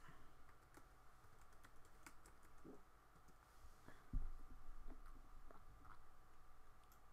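Typing on a computer keyboard while working in AutoCAD 2018, a quiet run of close key taps and clicks with one sharper thump partway through.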